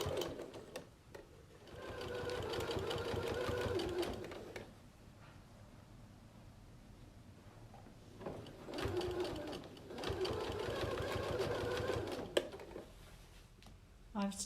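A sewing machine stitches binding around a fabric circular bag, running in steady rapid bursts with a brief pause between runs, close and moderately loud.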